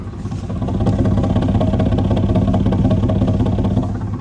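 A 2004 Ford F150 with the 5.4L V8 runs steadily at idle, its exhaust giving a continuous low, rumbling drone with a faint ticking clatter on top, close by and alone for the whole stretch.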